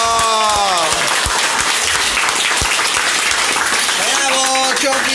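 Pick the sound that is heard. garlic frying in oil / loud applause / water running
loud applause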